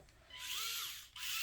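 A small Craftsman electric screwdriver with a built-in light whirs in two short close bursts, its thin motor whine rising and settling with a brief dip between runs.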